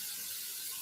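Cooking spray hisses from an aerosol can into a pan in a steady, close burst of airy spray that fills the whole short moment.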